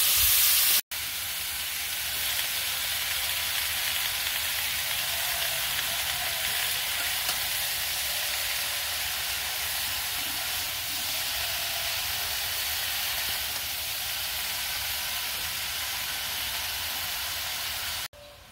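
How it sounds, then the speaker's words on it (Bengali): Vegetarian curry with turmeric powder fries steadily in a pan, giving a dense, unbroken sizzle that stays loud and even throughout with no voices. "তরকারি কষাই বানছে"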